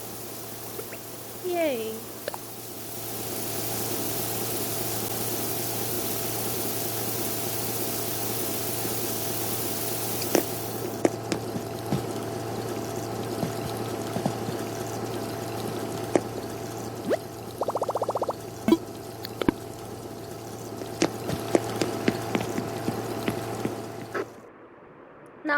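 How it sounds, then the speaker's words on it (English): Running shower water in the video game Animal Crossing: New Horizons, a steady spraying rush lasting most of the clip over a low hum, with a brief cheerful voice near the start and scattered small game clicks afterward. "Let's take a shower, shall we?"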